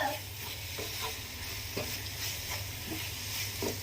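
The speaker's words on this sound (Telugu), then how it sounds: "ఇది ఇలా ఫ్రై అయ్యేటప్పుడు ఇందులోకి కొంచెం యాలకుల పొడిని, అలానే కొంచెం నెయ్యిని యాడ్ చేసుకొని మొత్తం నీట్గా కలుపుకోవాలి" A coconut burfi mixture with cardamom powder and ghee frying and being stirred, a low continuous sizzle broken by soft, regular scrapes of the spoon against the pan.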